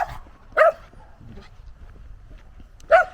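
A dog lets out two sharp, close barks spaced a couple of seconds apart over a quiet background with faint low rumble.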